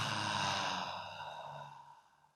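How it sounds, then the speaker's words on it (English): A deep breath drawn in by a group at a talk, a long airy sigh-like inhale that starts strong and slowly fades over about two seconds, with no talking. "Can we all take 3 deep breaths together?"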